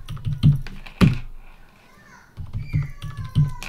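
Keys clack on a computer keyboard as a password is typed: a few sharp, close taps, a short pause, then another quick run of keystrokes, with faint background sounds.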